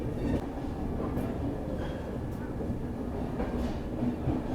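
Kolkata–Darbhanga Maithili Express passenger train standing halted on the line, a steady dull rumbling hum throughout with faint mechanical murmurs, no distinct wheel clatter.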